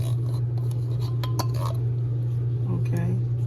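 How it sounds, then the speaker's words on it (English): Canned mushrooms tumble into a pot roast with onions, metal and utensil clinks and scrapes scattered over a steady kitchen hum, with no talking. "So, I'm going to add these mushrooms."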